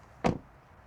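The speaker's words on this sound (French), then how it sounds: "Et voici le bruit de fermeture de la porte." A single solid thud of a Toyota Corolla Cross car door shutting, close and fairly loud, followed by a quiet interior.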